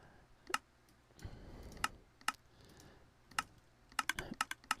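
Rapid clicking from an automatic wheat and beetroot farm mechanism in Minecraft, sharp irregular clicks that grow denser toward the end, close and fairly faint, with no talk.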